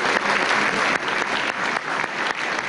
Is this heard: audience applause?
yes